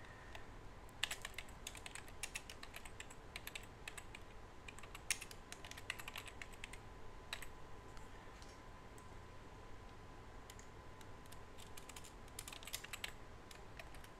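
Keys tapped on a computer keyboard while HTML is edited in a PrestaShop 1.6 module, quiet close clicks in irregular bursts with brief pauses, no voices.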